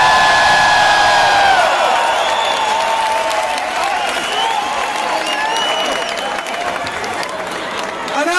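A large concert crowd at a show cheers and applauds loudly, with whistles and whoops rising over a steady roar of clapping that gradually eases off.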